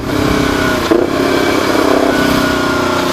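A Yamaha R25 motorcycle fitted with an Akrapovic Racing Line exhaust revs loudly and steadily close by, holding below about 5000 rpm with a brief blip of throttle near the start.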